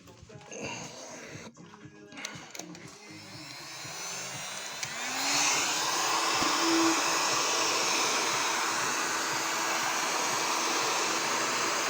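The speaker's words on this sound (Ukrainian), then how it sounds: "зараз я поки погрію феном" A heat gun warming a Porsche Macan body panel switches on and blows with a steady, loud whooshing hum that continues unbroken after some brief handling noises.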